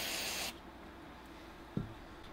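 Carburetor cleaner sprays onto disassembled carburetor parts from a gas 1985 Club Car DS golf cart: a loud, brief hiss that cuts off abruptly, followed later by a single dull knock in a quiet room.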